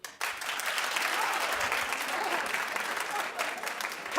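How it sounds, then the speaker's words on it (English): Studio audience women clapping at a television fashion talk show, dense sustained applause starting abruptly and holding loud and steady for about four seconds before fading slightly. "The women, clap."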